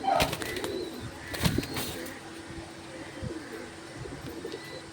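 A pigeon coos low and throaty in short repeated phrases, with some brief clattering and rustle near the start.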